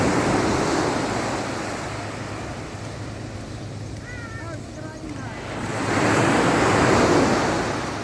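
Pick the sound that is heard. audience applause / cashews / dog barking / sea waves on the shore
sea waves on the shore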